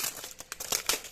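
Plastic packaging of small scrapbook paper from a craft haul crinkling and tearing as it is opened, a quick series of sharp, close crackles over about a second.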